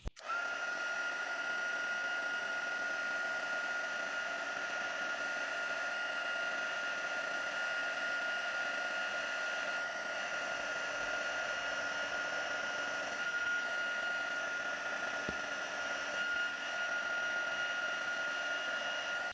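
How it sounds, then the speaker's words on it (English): An embossing heat tool blows with a steady, close whirring hum as it melts embossing powder on a card, running continuously without pause or voices. "I'm just going to use my heat tool to melt all that embossing powder"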